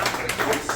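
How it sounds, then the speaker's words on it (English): Brief burst of audience applause at an improv comedy show at Westbrook On Tap, a dense patter of many hands clapping at moderate volume with no voices over it. "One more round of applause for these guys and for Nicole"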